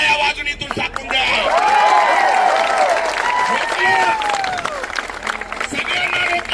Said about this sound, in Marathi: जोरात टाळ्या वाजून इथून टाकून द्या.